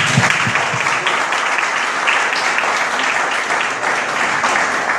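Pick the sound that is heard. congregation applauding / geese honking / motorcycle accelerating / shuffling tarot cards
congregation applauding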